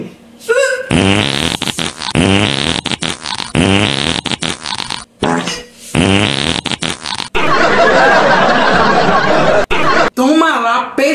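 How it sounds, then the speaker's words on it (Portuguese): A comedic fart sound from a mother-in-law, several long buzzy blasts in a row, with a broader noisy burst near the end, loud and up close amid bursts of talk and laughter. "Toma lá, peido de sogra!"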